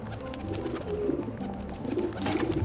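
Pigeons at a dovecote in Assassin's Creed 2 give soft, low repeated coos, several overlapping calls close by over a quiet ambient bed.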